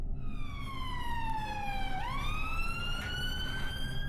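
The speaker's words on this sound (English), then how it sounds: "I pulled up to the wail of police sirens and the red flash of ambulance lights." A police siren wails continuously, its pitch sliding down then sweeping back up, loud and steady against a low background rumble.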